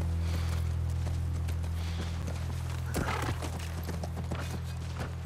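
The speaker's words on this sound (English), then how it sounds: "Look, by the ranch. That's our horse." A horse in the video game The Last of Us Part 1 clip-clops steadily near a ranch under a constant low engine-like hum, its hooves clear and close, with a short whinny-like sound midway.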